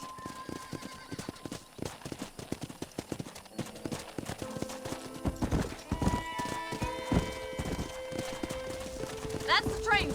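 Horses in a corral in the video game Red Dead Redemption clop their hooves in an irregular, busy rhythm, with occasional whinnies and snorts among steady background music and people talking.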